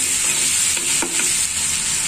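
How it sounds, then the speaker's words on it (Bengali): Onion with garlic paste fries in a pan, giving a loud continuous hiss and sizzle close by, with a brief stirring scrape in the middle and no talking. "পেঁয়াজ ভাজা হয়ে গেছে, ওর মধ্যে আমি 1/2 চামচ আর রসুন পেস্ট দিয়েছি"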